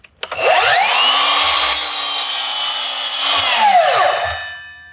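A miter saw spins up with a rising whine and cuts a miter through wood, giving a loud, sustained cutting roar close by that lasts several seconds before the blade winds down.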